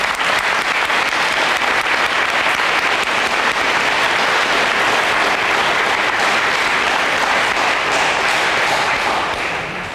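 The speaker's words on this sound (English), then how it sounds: "Let's give them a round of applause." A large audience at a 1995 high school awards night in Port Huron breaks into loud, sustained applause, dense clapping filling the hall for the full stretch and tapering slightly at the end.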